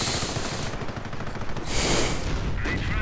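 Rapid bursts of .30 caliber machine gun fire in a World War II real-time strategy game match, dense rattling volleys that continue steadily alongside other battle noise, loud and close.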